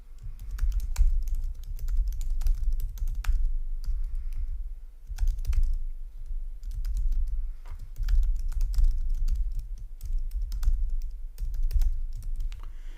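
Steady typing on a computer keyboard, rapid close key clicks in bursts with brief pauses, no voices.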